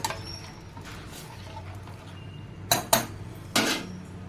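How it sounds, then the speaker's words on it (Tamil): Onion teeyal being stirred in a pot, with a quiet stretch followed by a few sharp metallic clanks of the spoon against the rim, close and fairly loud. "நல்லா இலக்கி கொடுத்து"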